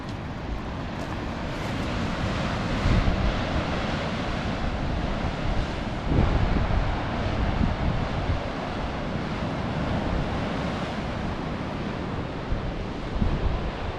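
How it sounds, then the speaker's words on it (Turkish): Rough, stormy surf churns continuously, with heavy waves crashing and roaring over strong wind buffeting the microphone. "Deniz gerçekten çok dalgalı, fırtınalı"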